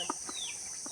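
Short soft clucks from a hen that has just laid an egg, a few spaced bursts over a steady high-pitched insect-like hum.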